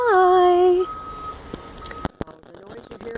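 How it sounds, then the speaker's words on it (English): Reversing beeps from earth-moving machinery work behind fences near the Fort Stevens habitat viewing platform in Oregon, a steady tonal beep sounding faint and distant in the open outdoor air. "The noise you hear in the background, I believe is earth movers of some sort."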